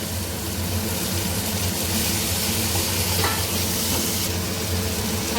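Chopped tomatoes hit hot spiced oil in a pan, giving a loud, steady sizzle and frying hiss throughout, with stirring scrapes and no voices.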